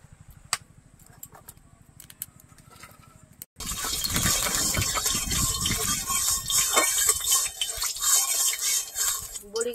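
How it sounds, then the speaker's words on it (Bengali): Bori lentil dumplings frying in oil: after a few seconds of faint clicks and quiet clatter, a loud, close sizzle bursts in suddenly and keeps crackling vigorously, with occasional utensil scrapes. "বড়িগুলো ভেজে নেব।"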